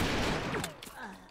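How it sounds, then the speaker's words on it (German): A brief burst of rapid assault-rifle gunfire in the video game Brick Force crackles at the start, followed by fading electronic tones and whooshes, fairly faint. "Ah, Schüsse, Schüsse, Schüsse"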